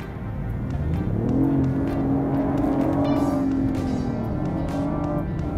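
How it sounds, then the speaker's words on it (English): A BMW i8 hybrid in sport mode runs its engine hard, a loud, close, sustained drone that climbs in pitch as it revs, then holds and eases off near the end. "the engine is working at full capacity"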